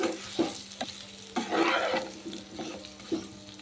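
A spoon stirs coriander and spice powders into chicken frying in a pan, making repeated close scraping strokes over a soft, steady sizzle with no speech.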